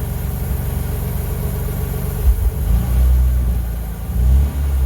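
An old Ford F150 OBS Flareside truck engine idles with a low rumble, then revs up in a couple of loud, close surges, with no voices.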